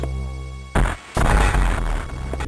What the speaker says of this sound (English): damn, do I love the missile explosion sounds